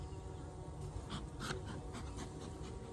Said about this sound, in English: Guard bees are out.